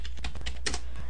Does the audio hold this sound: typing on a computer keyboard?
yes